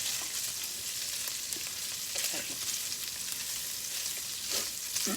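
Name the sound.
ham gravy frying in bacon grease in frying pan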